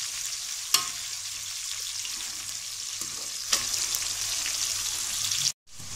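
Onion and tomato sautéing together in a pan for a village-style fish curry give a steady, close frying hiss with a couple of brief clicks, cutting off abruptly near the end.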